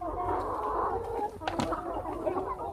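A flock of 13-week-old laying hens in a free-range pen keeps up a steady, fairly close murmur of soft clucks while competing over feed.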